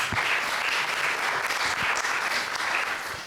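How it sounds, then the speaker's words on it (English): Festival audience at a videogames and affect talk applauding, a dense, continuous wash of many hands clapping at close range with no voices over it. "let's give Cars a round of applause"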